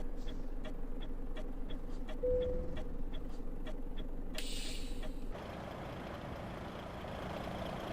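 A truck towing a trailer reverses between cones with regular reversing beeps over a low idling engine, followed by a short hiss like an air brake release, then the engine idles alone.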